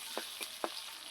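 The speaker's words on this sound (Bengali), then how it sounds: "হালকা ভাজা দিয়ে নিব পেঁয়াজটা।" Onions lightly frying in oil in a wok, a soft continuous sizzle broken by a few brief stirring scrapes, faint and near.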